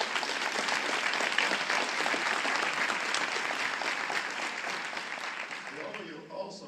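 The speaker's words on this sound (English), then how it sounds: "Let's give Susan Everhart, your consultant, and Donya Purby, your director of program, for a great round of applause" A room full of people gives a sustained round of applause for a program's consultant and director, dense clapping holding steady for several seconds before tapering slightly at the end.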